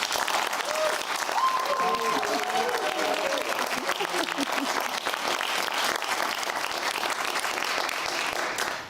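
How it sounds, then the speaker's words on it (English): Long, sustained applause from a studio audience on a British talk show, dense and even clapping that carries for nearly nine seconds, with a voice briefly audible over it early on. "A massive round of applause"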